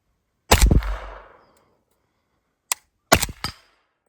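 Gunshots from a PSA 300 Blackout AK pistol firing 240 grain rounds outdoors: one loud booming shot with a trailing echo, then a short gap and a quick pair of sharp reports.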